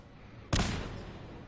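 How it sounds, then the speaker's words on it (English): A single sudden boom from an explosion in the video game Fallout 4 bursts in partway through, loud and broad, then rumbles and slowly fades out. "I want to make explosions."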